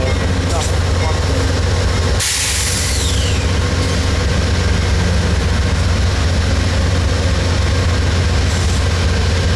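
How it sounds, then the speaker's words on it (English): Locomotives 136 and 201 departing at Cajon with a loud, continuous diesel rumble and steady rail roar, close and dominant throughout, with a brief high screech early on. "here's 136 and 201 departing out"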